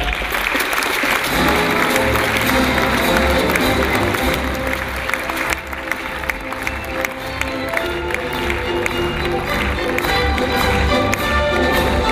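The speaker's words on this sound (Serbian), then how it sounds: "Molim vas da jednim velikim aplauzom pozdravite" An audience at a new-product presentation applauds to welcome a company manager, with dense, steady, close clapping that fills the whole stretch and a few sharper individual claps.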